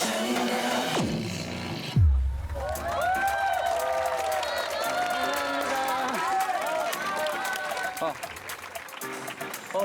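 A street crowd in Yeosu claps and cheers after a short outdoor dance performance, with a loud thump at the start and voices talking over the applause throughout.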